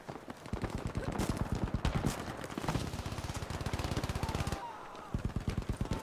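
Rapid machine-gun bursts rattle through a Battlefield V jungle firefight, a dense stream of close, loud shots running almost continuously, with a brief pause before the firing resumes.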